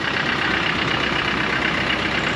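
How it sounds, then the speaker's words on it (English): A 2005 Land Rover Defender 110 diesel idles on a city street in São Paulo, producing a steady, even rumble with constant loudness and no talking over it. "It's a 2005 Land Rover Defender 110. It's diesel,"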